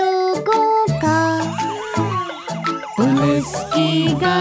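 A police car siren wails within a bright children's song, its sweeping up-and-down glides woven through the cheerful melody at a loud, close level.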